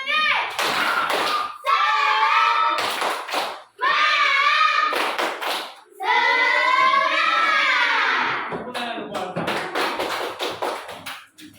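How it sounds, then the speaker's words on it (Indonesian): Rhythmic 'tepuk semangat' clapping by a group, with quick patterned hand claps alternating with loud chanted voices, close and lively, repeated as a second round. "Ayo. Tepuk semangat."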